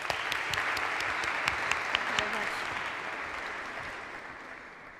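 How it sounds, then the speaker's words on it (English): Audience of incoming university students applauding a speaker at a welcome event in Segovia, a dense burst of clapping that gradually fades over several seconds. "I would like you to welcome her with a warm round of applause as well."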